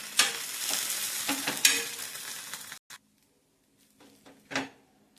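Pav bread toasting in butter in a pan gives a busy sizzle with stirring and scraping for nearly three seconds, then stops abruptly, leaving near silence broken by a couple of brief clatters.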